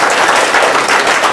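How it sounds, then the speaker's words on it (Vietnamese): A live audience claps steadily to welcome a singer on stage, a dense, loud wash of hands filling the whole short burst with no talking over it. "Xin mời quý vị trong một tràng vỗ tay"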